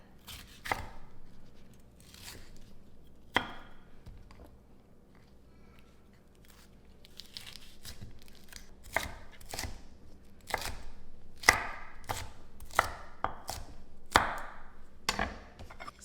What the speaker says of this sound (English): We're going to need more than that amount of peppers, so I will get this diced up